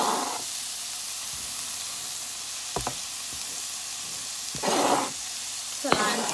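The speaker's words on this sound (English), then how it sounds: "So in goes my green onions, garlic, onion and pepper." Green onions, garlic, onion and pepper hit hot oil in a pot of stewed salted fish and sizzle, with hissing bursts as they are stirred and a few knocks of the spoon against the pot.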